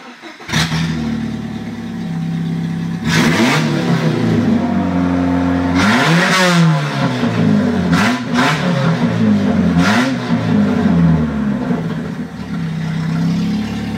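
A figure-8 demolition derby race car engine fires up and idles with a loud, rough rumble, then revs sharply several times in quick bursts before settling back.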